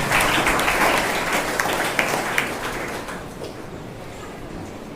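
A classroom of students applauding a classmate during a biology quiz, a steady burst of clapping that fades out over about three seconds, with faint voices underneath.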